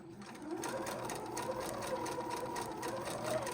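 A sewing machine runs steadily through a star quilt block, its fast, even needle rhythm holding close and loud for the whole stretch with no talk over it.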